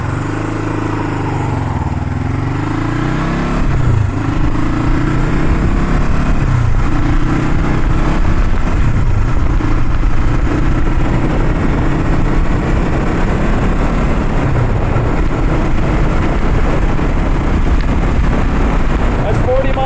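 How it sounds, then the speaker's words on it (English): A 1975 Honda CL360 Scrambler motorcycle cruising in top gear at about 40 mph, a loud steady engine drone with wind rush throughout, close-up from the rider's position, with someone talking over it. "That's 40 mile an hour. We're in top gears."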